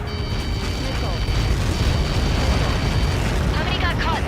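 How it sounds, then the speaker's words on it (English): A missile impact explosion in the video game Ace Combat 7 lands as a loud, sustained blast rumble with crackling debris, while radio voices talk over it. "How many got caught in that explosion?"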